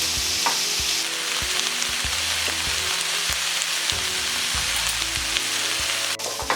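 Jackfruit fries in a hot pan with a steady, close sizzle, broken by repeated scrapes and knocks as a utensil stirs the pieces around.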